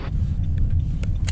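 A car in motion, heard from inside as a steady low engine and road rumble, fairly loud and unbroken for the brief moment.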